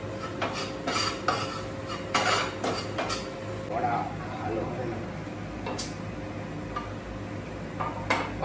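Pasta being stirred with flour in a pan over a lowered flame, giving repeated scraping and clinking of a utensil against the pan in uneven strokes, close and moderately loud, with a voice speaking over the top.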